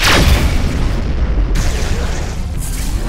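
Missile explosions in the space combat game Rebel Galaxy: a heavy, loud boom opens, followed by a rumbling decay and two further blasts, close and forceful.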